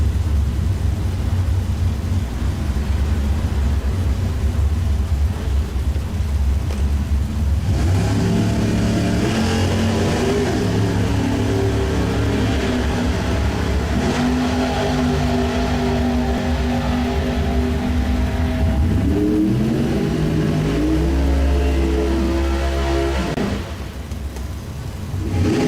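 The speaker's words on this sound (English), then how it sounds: "Todd Sims up next, 66 Chevrolet Nova, taking on Chris Ormsby, the 69 version of the same car" A 1966 Chevrolet Nova and a 1969 Chevrolet Nova in a bracket drag race: loud engines idle, then roar as they accelerate hard, with rising and shifting revs and a steady rumble throughout.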